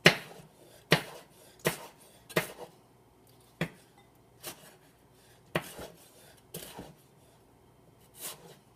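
A knife slices tomatoes for bruschetta on a cutting board, with about a dozen distinct sharp knocks at an uneven, unhurried pace, close and clear in a quiet kitchen.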